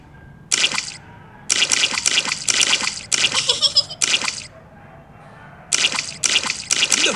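Splashing in muddy puddles in a Peppa Pig cartoon, a run of sharp wet splash bursts in an irregular rhythm with brief quiet gaps between them, close and fairly loud.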